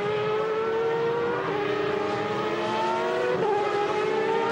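Superleague Formula race cars at the Nürburgring's Michael Schumacher S, engines howling loud and steady with shifting pitch as they brake and accelerate through the corner, continuous and close, no talk.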